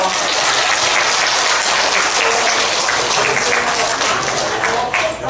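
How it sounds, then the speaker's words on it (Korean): Loud, dense applause from an audience at a children's speech contest against school violence and youth gambling, continuous clapping throughout with no voices over it. "잘하라고 박수 한번 주세요"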